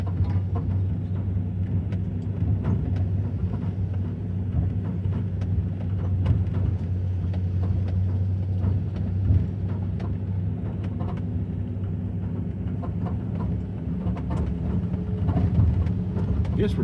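A vehicle engine chugs along in first gear on a back road through Ceylon South wildlife management area, a steady low rumbling drone with faint rattles that barely changes over time.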